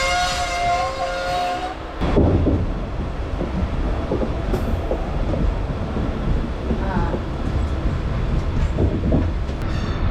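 A MEMU commuter train running between Tambaram and Villupuram, heard from inside a carriage: a steady rumble and rattle of wheels on track, with a tonal whine or horn at the start followed by continuous clattering motion.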